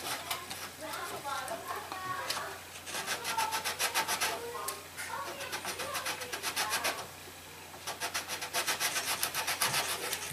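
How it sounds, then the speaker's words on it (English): Rhythmic bursts of light sanding on a plastic model ship hull, coming in several repeated stretches with brief pauses, with faint background noise underneath. "So I'm basically just lightly sanding that."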